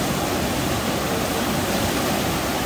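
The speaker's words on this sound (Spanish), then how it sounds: "acá desde el río Torola. Está demasiado crecido." The flooded Torola river rushes in a loud, constant roar of swollen water, close and unbroken throughout, with no voices.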